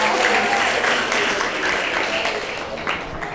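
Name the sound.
audience applause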